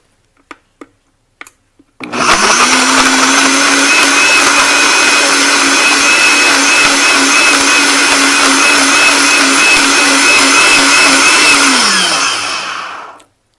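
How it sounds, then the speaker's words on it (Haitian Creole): An electric blender blends mango, starting after a few sharp clicks and then running as a loud, steady motor whir for about eleven seconds before winding down and stopping. "Et puis kounya là, ou pouvez blender mango."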